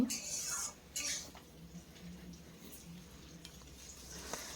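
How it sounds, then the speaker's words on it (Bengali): Fried new potatoes being sautéed and stirred in a pan for vegetarian potato curry, giving a soft sizzle with light scraping and clatter, louder at the start and then low and steady. "দিয়ে খুব ভালো করে আবারও কিছু সময় এইভাবেই কষিয়ে নিতে হবে।"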